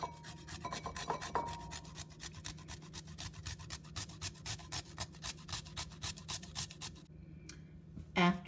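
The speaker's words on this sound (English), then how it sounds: "The first thing I'm going to do is grate my cucumber." A cucumber is grated for homemade tzatziki, producing a steady run of quick rasping strokes against the grater, close and even in rhythm, with a low background hum and a small clatter near the end.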